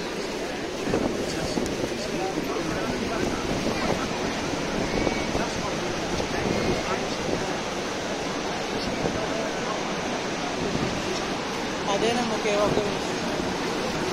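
Niagara Falls roars as a constant broadband rush of falling water with wind buffeting, while people talk over it.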